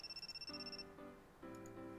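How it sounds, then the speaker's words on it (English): A mobile phone rings in a video game with a bright electronic ringtone: a quick warbling trill, then sustained melodic tones that pause and start again. It is fairly quiet and heard alone, with no speech. "Someone is calling Miyuki's phone."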